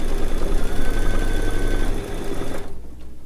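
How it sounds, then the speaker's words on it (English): A Baby Lock embroidery machine stitches an edge-to-edge quilt in the hoop, giving a steady fast mechanical whir with a rapid needle rhythm that drops off near the end. "it's going to stitch in a registration mark for us to do an upper left corner when we go down to row number 2"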